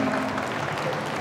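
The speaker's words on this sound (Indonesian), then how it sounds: "mari kita tepuk tangan, beri applause" Continuous applause from an audience at an Indonesian creative awards event in Pontianak, dense and steady, with a low murmur of crowd underneath.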